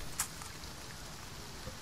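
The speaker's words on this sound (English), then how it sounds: "It's raining." Steady rain falls in the Farm Together farming video game, a soft, even hiss of raindrops with a brief sharper tap near the start, heard alone without talk.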